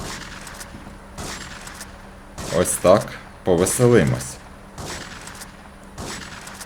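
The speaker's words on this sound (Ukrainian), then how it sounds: "Оце на такій відстані я стріляю з пампушки." Pump shotgun blasts in the game GTA 3, a few heavy booms spaced apart at a distance, partly under a voice speaking.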